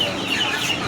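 Chickens at a village market cluck in a close, continuous flurry, with busy market noise filling the background throughout.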